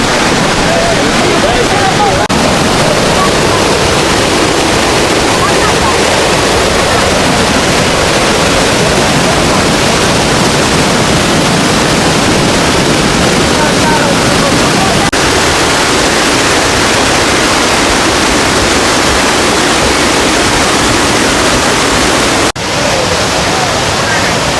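A waterfall at a scenic spot in China roars as a loud, constant broadband rush of falling water that runs without a break, close and dominating.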